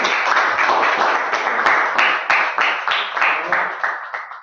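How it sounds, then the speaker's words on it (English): Audience applause for three foreign speakers at a speaking event, dense, steady clapping from a crowd that holds for several seconds and then begins to fade. "Let's give a round of applause for all those three foreign speakers."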